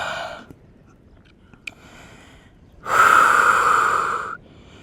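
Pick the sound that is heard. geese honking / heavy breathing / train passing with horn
heavy breathing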